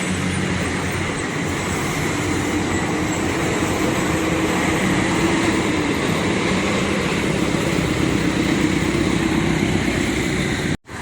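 A PT Pelangi bus rolls past close by, its loud engine roar and road noise holding steady and heavy for several seconds before cutting off abruptly, with no talk over it.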